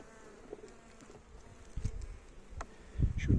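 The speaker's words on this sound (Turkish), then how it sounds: "Gördüğünüz gibi tarlacı arılar polen getiriyor." Forager honeybees buzz around an Istanbul hive during a January colony check, returning loaded with pollen; a soft, steady hum carries throughout, with a few louder close passes toward the end.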